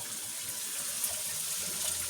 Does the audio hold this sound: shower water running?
yes